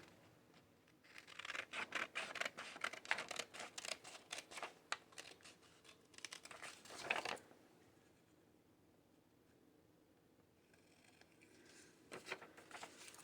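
Scissors trimming paper while making a page for a handmade signature, crisp snipping and rustling strokes in bursts over the first seven seconds, then a few quieter cuts near the end, close and fairly soft.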